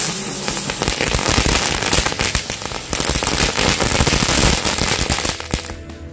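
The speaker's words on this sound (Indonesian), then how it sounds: "Ini merconnya sama berputar seperti gangsing, tapi ini ada suaranya dan bakalan lebih bagus lagi." A spinning lotus-flower firecracker whirls and pops in a dense, continuous burst of crackling and hissing bursts, loud and close, with no talk over it.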